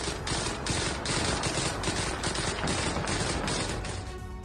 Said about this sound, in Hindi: हमास ठिकाने पर आईडीएफ की गोलीबारी, ग्रेनेड और मशीन गन से विस्फोटक अटैक